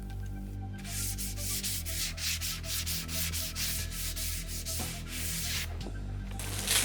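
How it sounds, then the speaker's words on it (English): Cut wooden edges in a shed being built into a soundproof music studio get a light hand sanding, a steady close rubbing and scratching that runs in quick repeated strokes over a low background hum. "I actually use a rounding bit on my router to smooth over the facing edge, and then I give everything a light sand."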